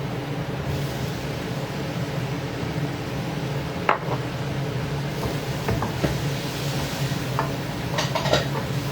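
A hotdog frying in a pan with a little oil gives a steady close sizzle, with occasional sharp clicks of a utensil against the pan, with no talking.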